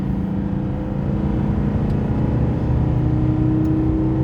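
A car engine pulls at full throttle in third gear during a clutch pressure plate and lining test, giving a loud, steady, close drone that stays strong throughout with no talk.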